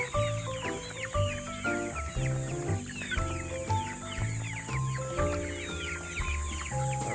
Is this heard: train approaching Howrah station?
no